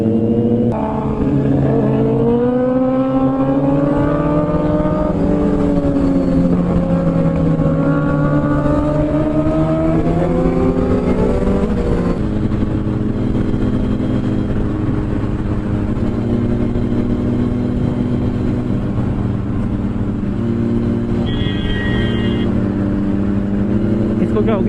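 A Ford EcoSport revving and racing along a road with speed breakers, its engine climbing and falling in pitch through several loud gear pulls, heard close over continuous road and wind noise while people talk.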